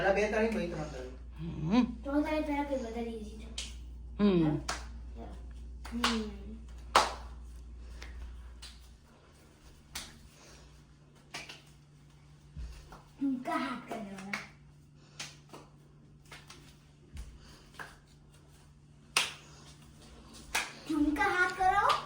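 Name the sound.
clapping to garba dance practice, three claps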